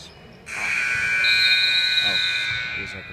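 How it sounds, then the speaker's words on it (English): An electronic buzzer at a youth basketball game blares for about two seconds as a steady, loud tone over crowd noise and nearby chatter, fading out toward the end. "Oh, there's like a buzzer."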